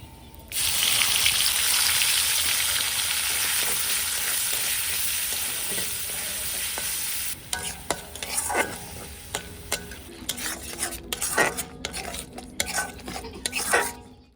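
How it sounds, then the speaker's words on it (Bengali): Spice paste hits hot oil in a kadai for matar paneer, a loud hissing sizzle that settles into a lower fry, followed by rapid metallic scraping and clinks of stirring, close up, no voices. "এখানে আমার মশলা ভাজা হয়ে গেছে"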